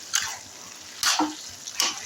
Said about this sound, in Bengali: এবার সেই মাছ ভাজা মাথাগুলো আমি সব দিয়ে দিলাম। এবার ঘোটা নাড়া করবো